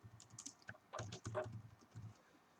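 Someone types quickly on a computer keyboard while working on a SolidWorks drawing, producing a close, quiet patter of key clicks in short irregular bursts.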